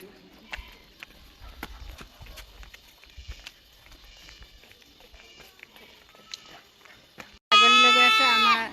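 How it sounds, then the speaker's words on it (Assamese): A goat bleats loudly and close by in a single long wavering call at the very end, after a stretch of quiet scuffing, footsteps and soft background noise. "ছাগলীলৈ গৈ আছে আমাৰ ওচৰত"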